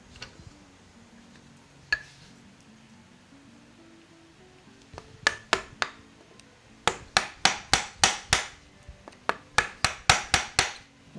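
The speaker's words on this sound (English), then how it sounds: "We're just chipping out some of this stuff here, cleaning the bottom up so we can get a good snug fit" Sharp wooden knocks from chipping out wood to clean the bottom of a joint for a snug fit, for a table build in wood and metal: a few scattered taps, then quick runs of close, fairly loud strikes in bursts.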